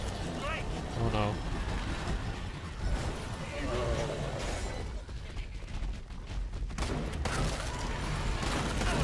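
Gunfire in the video game Killing Floor 2 rattles in repeated bursts through dense game noise, while someone talks over much of the action.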